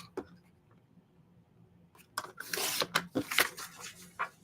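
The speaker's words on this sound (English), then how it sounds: "Just going to trim these apart" A 12-inch paper trimmer slices scrapbook paper apart, heard as a quiet tap and then a few close, raspy cutting strokes with soft rubbing of paper in a quiet room.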